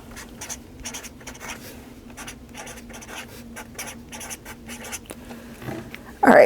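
Pen or pencil scratching across paper in steady short strokes, close and fairly quiet, with a louder rustle of paper at the very end.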